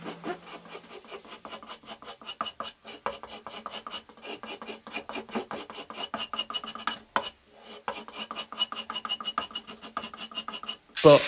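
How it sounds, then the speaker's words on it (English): Hand sanding scrapes excess glue from around a repaired crack in a cricket bat, producing steady, close rasping strokes in a quick repeated rhythm that pause briefly near the end. "I had to come in and hand sand that off instead."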